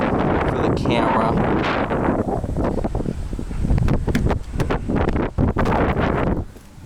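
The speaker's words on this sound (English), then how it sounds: "I'll be nice and quick outside because it's very windy" Strong wind buffets the microphone outdoors beside a 2021 Kia K5 EX in rough, low rumbling gusts, with a voice speaking underneath the blustery noise.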